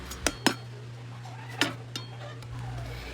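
A spoon knocks against a pot while stirring sticky rice coated in syrup, giving a few sharp clinks and scrapes spaced irregularly, close and fairly quiet.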